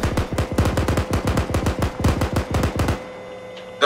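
An M2 heavy machine gun in the Arma war game fires a sustained rapid burst of loud, evenly spaced booming shots for about three seconds, then stops abruptly, with no talking.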